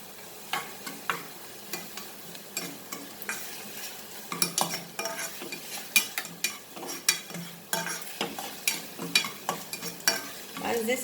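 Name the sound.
ginger and garlic frying in oil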